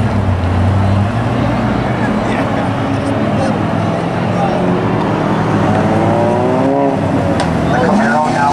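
A Camaro idles and rolls off a drag strip into the pits at a spectator drag event at Birch Run Speedway, a steady loud engine rumble that rises slightly near the end, heard under crowd and announcer noise.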